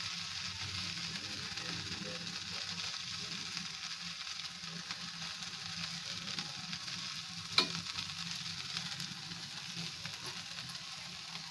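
Grated coconut being stirred into okra bhaji in a pan, Malvani style: a steady soft scraping and faint sizzle runs throughout, fairly quiet, with one brief sharper knock partway through.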